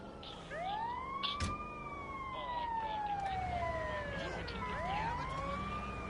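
Ambulance siren in the GTA video game, a loud, close wail sweeping up and down in long repeated cycles over a low engine rumble, with no talk over it.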